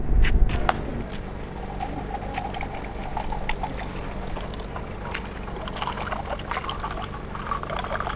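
Water is poured out in a continuous splashing, trickling stream close by. It starts with a louder gush and then keeps up a steady flow.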